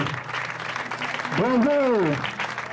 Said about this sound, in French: nous allons applaudir très très fort pour lui